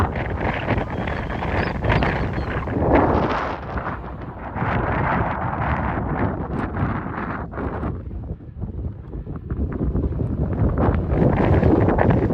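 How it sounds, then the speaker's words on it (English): Strong wind buffets a microphone on an exposed hillside at White Clough, a loud continuous roar of gusting rumble that surges and dips throughout, dropping briefly before building again. "it's incredibly windy"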